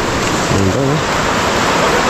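A river flowing with a broad, steady rushing wash heard outdoors at close range, with a brief spoken remark partway through.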